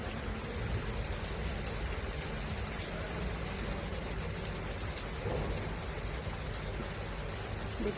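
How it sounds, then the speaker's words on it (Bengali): Monsoon rain falls steadily outdoors near overgrown jungle, a dense, even hiss of drops on surfaces that holds constant throughout with no voices. "চলো তোমাদেরকে বৃষ্টিটা একটু দেখাই"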